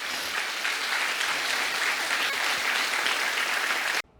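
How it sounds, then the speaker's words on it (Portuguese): A church congregation applauds loudly and steadily in a dense, continuous wash of clapping that ends abruptly. "Aplauda Jesus bem forte, você que crê"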